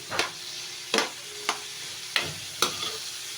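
Bitter gourd (ampalaya) sautéing in a pan under a low sizzle, broken by five sharp, close scrapes or stirs spaced unevenly about half a second apart, with no talking.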